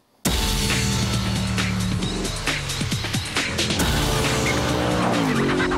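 Spyker C8 sports car from the Dutch maker driving hard, a loud close engine roar with rising and falling gear-change pitch sweeps, starting suddenly and continuing without pause.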